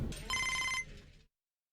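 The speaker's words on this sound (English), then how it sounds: "Our phone is ringing." Telephone in the MLB 25 baseball video game rings with a bright electronic trill lasting about a second, moderately loud, then stops.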